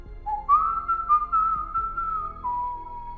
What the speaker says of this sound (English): Jack hears the stranger whistling an eerie tune